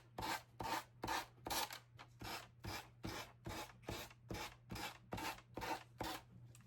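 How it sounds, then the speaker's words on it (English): A sanding block rubs back and forth across a wooden cigar box in a steady rhythm, about a dozen raspy scrubbing strokes, close and fairly quiet over a low hum. "I'm going to go ahead and grab my little sanding block"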